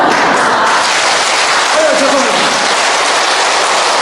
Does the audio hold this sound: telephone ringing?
no